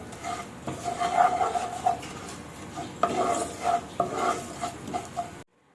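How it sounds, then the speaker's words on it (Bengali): Whole cumin seeds sizzle in a little hot oil in a wok, with close scraping and stirring strokes over a crackling fry before the sound cuts off abruptly. "গোটা জিরে একটু দিয়ে দিলাম।"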